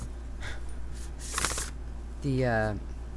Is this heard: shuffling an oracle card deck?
yes